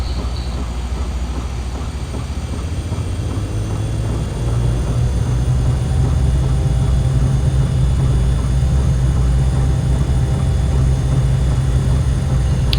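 A Kodiak aircraft takes off in Microsoft Flight Simulator X, its engine a steady loud drone that builds and thickens partway through and holds strong as the plane climbs away, with no talk over it.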